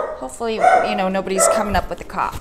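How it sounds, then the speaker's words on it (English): A pet dog barking indoors, several yips and barks mixed in with a person talking at close range. "that's my dog, and there are people."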